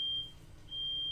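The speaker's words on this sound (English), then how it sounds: "That's our fire alarm, I think." A household smoke alarm in a family home sounds a loud, sharp, high electronic beep that cuts out briefly in the middle and then resumes, with no talking.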